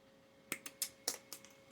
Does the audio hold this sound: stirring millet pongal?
no